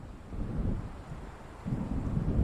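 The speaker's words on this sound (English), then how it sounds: "It seems there's a storm coming." Low rumbling storm ambience from the video game Alan Wake, a steady dull roar of rolling thunder and wind that swells again toward the end, with no voices.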